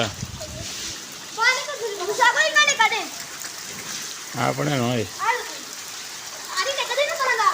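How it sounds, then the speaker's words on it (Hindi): Heavy rain falls steadily at a home under renovation, a constant dense hiss and patter throughout while people talk loudly over it. "बहुत तेज़ बारिश है जनाब, जिसको तो साथ हो बुलबुले वाली बारिश।"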